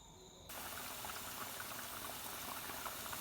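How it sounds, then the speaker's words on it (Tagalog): Potato chips fry in oil at a full rolling boil, a dense, steady bubbling hiss that fills the clip after a short, quieter opening. It is close and even, with no voices. "kulong-kulo yung mantika at log-log yung patatas"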